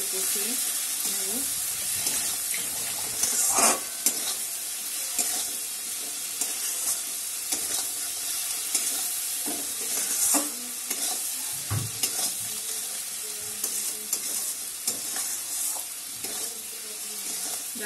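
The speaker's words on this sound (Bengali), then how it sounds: "মশলাগুলো একটু ভালো করে কষিয়ে নেব" Spices and a little sugar being stir-fried in a pan for Bengali aar fish kaliya, with vigorous repeated spatula scraping over a steady sizzling hiss and scattered metallic knocks.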